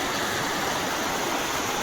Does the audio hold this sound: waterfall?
yes